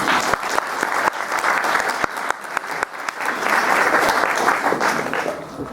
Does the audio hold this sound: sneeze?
no